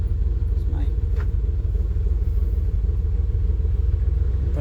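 A truck engine with a throttle body injection fault runs at a stoplight, a loud, rough low rumble with an uneven pulse that persists throughout, along with faint background noise.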